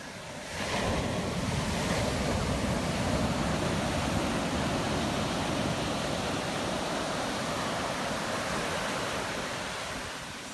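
Ocean shorebreak waves wash onto the sand at Kua Bay beach in Hawaii, a constant broad roar of surf rising in after a quiet start and easing slightly at the end, with wind noise and no talk.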